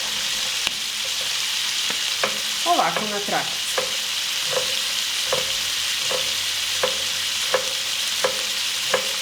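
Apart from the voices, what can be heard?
chicken liver frying in a pan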